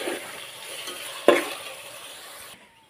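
Chopped onions sizzling in hot oil for biryani, a close steady hiss with one sharp clink of a spoon against the pan as they are flipped, then cutting off abruptly.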